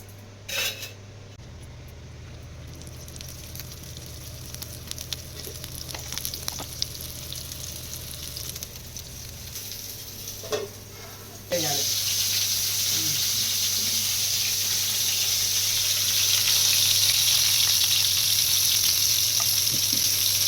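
Small bitter gourds fry for a masala fry in a pan already used to fry onions. A soft sizzle with occasional stirring clinks jumps to a loud, dense sizzle partway through and stays strong to the end.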